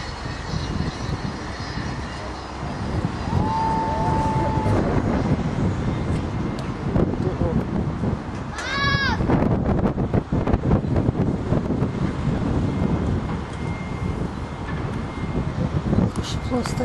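Strong, steady wind at the Finnieston Crane roars and buffets the microphone throughout, with a whistling tone partway through and a brief rising chirp in the middle.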